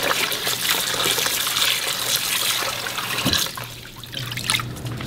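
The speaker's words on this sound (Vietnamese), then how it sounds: "Rồi các bạn rửa lại nhiều lần với nước cho thật là sạch." Fish being rinsed several times under running water, a steady close trickle and splash that dips briefly near the end before resuming.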